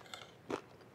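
Bite into ceviche with sweet potato, giving a quiet close crunch with a faint softer crackle just before, no speech.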